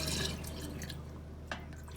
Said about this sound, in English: So try to pour it in the second bottle.